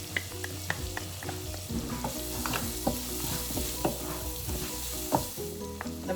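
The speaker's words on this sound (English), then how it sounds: "So we're going to saute the onions" Chopped onions and garlic sautéing in a hot pan for chicken cacciatore, with a steady sizzle broken by repeated scrapes and taps of a stirring utensil against the pan, close up and with no talking.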